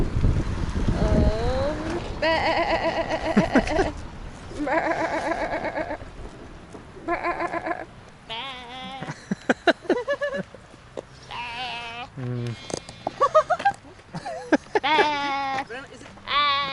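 A person mimics sheep bleating over and over, wavering nasal bleats in a quick series with short breaks, close and fairly loud, with some talk mixed in.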